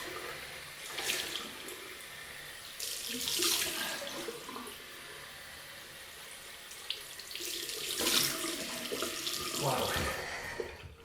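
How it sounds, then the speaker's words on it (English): A bathroom tap runs for a cold rinse after a shave with a dual-head razor, steady splashing water that swells and eases as hands move under the stream. "cold rinse, I'm looking forward to this."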